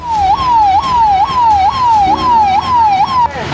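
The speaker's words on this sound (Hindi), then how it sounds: "शाम को 6 बजे से ही गाड़ियां सायरन बजाते हुए शहर में घूमने लगी" A vehicle siren patrolling city streets wails loud and close in a rapid repeating up-and-down pattern, about eight cycles, with engine rumble underneath.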